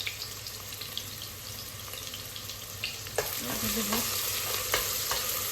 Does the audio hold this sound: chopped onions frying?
yes